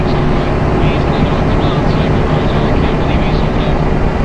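A Kawasaki H2 superbike pulls hard in third gear, its engine a loud, dense roar with wind rush throughout, while riders talk over it.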